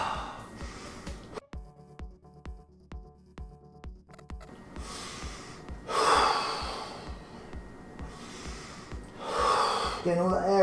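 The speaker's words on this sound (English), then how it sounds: "You really want to exhale" A man doing an ab workout exhales forcefully, with a few strong breaths and snorts standing out after a quieter stretch, close and loud.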